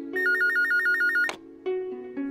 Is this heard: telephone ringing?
yes